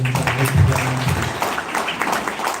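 An audience at a charity trust event in Thrissur claps together in a brief round of applause, with a voice faintly heard at the start.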